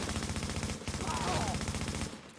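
A mounted machine gun in The Division fires a rapid, steady stream of shots, rattling continuously for about two seconds before stopping.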